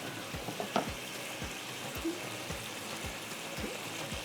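Minced meat for karahi mirch qeema is bhuna in a karahi with a soft, continuous sizzle. Regular spatula scrapes land about every half second, and no one speaks.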